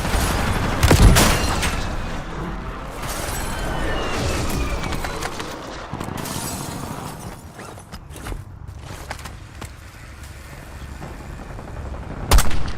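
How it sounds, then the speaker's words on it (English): Video game combat: rapid gunfire and explosive airstrike blasts pound through the first half, then ease to scattered shots and mechanical clatter before a last loud burst near the end. "Enemy airstrike in the area."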